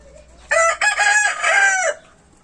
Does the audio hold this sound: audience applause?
no